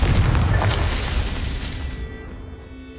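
Loud fiery boom of a Confringo spell explosion in Hogwarts Legacy, a dense roaring burst that rolls on and slowly decays over about three seconds with no voices.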